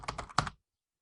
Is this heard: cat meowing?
no